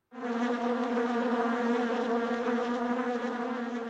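Bees buzz in a steady, continuous drone that starts abruptly and holds even and fairly loud throughout, with no other sounds.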